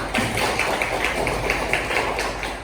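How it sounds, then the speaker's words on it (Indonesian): A classroom audience claps for a student after a religious education lesson, giving steady, dense applause that continues without a break for a few seconds. No one speaks over it. "Berikan aplaus untuk Siti"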